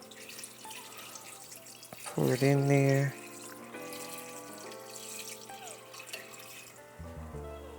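Four cups of water pour into a cooking pot of blackberries for homemade jelly in one loud, steady gush lasting about a second, with a person talking before and after.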